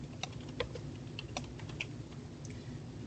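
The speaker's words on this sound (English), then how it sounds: "and I'm going to type" Close, uneven keystrokes on a computer keyboard while filling in a web form, a scattered series of soft clicks and taps over a quiet background hum, no voices.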